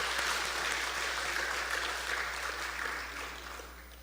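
A church congregation gives a round of applause during a Korean Sunday service, a dense, sustained clapping that gradually fades toward the end.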